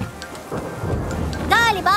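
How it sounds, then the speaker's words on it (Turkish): Thunder rumbles over steady pouring rain in a children's cartoon about trucks and rescue vehicles, loud and close throughout, with a character's voice rising briefly near the end. "Fırtına korkutucu olabiliyor biliyorum."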